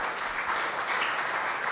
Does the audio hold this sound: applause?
yes